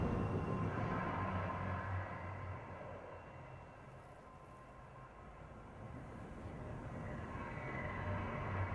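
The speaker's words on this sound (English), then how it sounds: "Train has left." The Winter Express train in Apex Legends drones steadily with a low rumble and rolls away, its mechanical roar easing slightly in the middle before swelling again.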